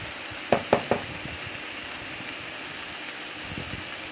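Red amaranth leaves (lal shak) frying in oil in a pan, a steady soft sizzle broken early by three sharp clanks of a utensil against the pan, followed by a couple of fainter stirring knocks later.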